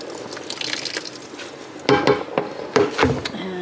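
Rinse water dumped out of a pot after rinsing printed cross stitch fabric, a few sloshing pours and splashes with a knock of the pot, close by over a low background.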